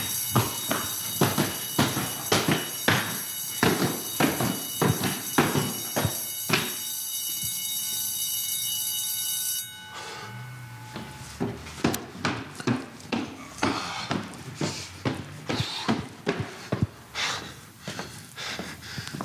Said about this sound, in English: Burglar alarm goes off every time they bang on the door.